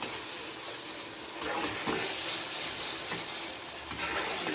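Mustard-poppy paste with green chilli being stirred in a pan while cooking a Bengali parshe fish curry, a steady broadband sizzle with soft scraping strokes of a spatula, close and continuous throughout.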